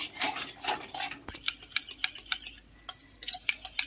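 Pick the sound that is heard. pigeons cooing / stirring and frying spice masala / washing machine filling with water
stirring and frying spice masala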